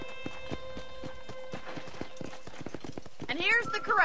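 A horse in the video game Red Dead Redemption moves at a galop with steady clip-clopping hooves, then whinnies loudly near the end, with voices talking over the hoofbeats.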